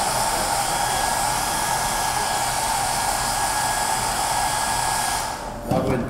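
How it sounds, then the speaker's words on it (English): A hair dryer blows loud and steady for several seconds, then cuts off abruptly near the end, leaving a brief rustle. "This stuff, it dries pretty fast with a hair dryer."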